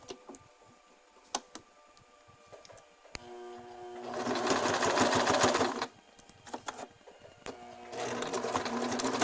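A domestic sewing machine zigzag stitching a seam in reverse on an underwear crotch gusset, its rapid motor whir coming in two loud bursts separated by quieter pauses with small mechanical ticks and clicks.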